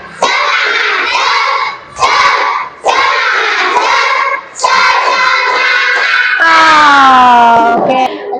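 A classroom group doing a rhythmic spirit clap and chant, loud close-up voices shouting in unison in repeated bursts with clapping, ending in a long drawn-out cheer.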